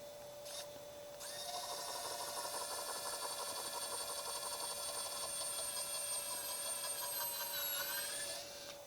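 Small power drill boring into a guitar kit body, a brief start then a long steady high whine lasting several seconds before stopping, close and alone.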